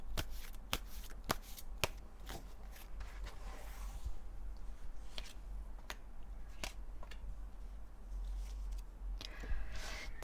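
Tarot cards shuffled by hand during a love reading, a steady run of crisp riffles and sharp snapping flicks, close and fairly quiet, with no talking.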